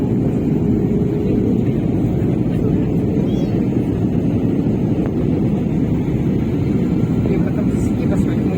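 Inside an airliner descending low toward the airport, a loud, steady cabin roar of engines and rushing air fills the whole stretch with no breaks.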